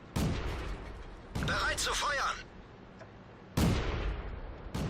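Tank cannon fire in World of Tanks lands as several loud, sharp booms with decaying tails, the second one followed by clanking impact noise, while a voice comments nearby.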